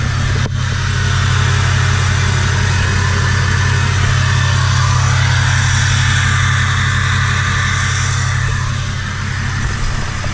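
A Ford 6.0 Powerstroke diesel truck fitted with a Sinister exhaust tip rumbles loudly and steadily at close range, with a low throbbing idle and slight swells in revs throughout.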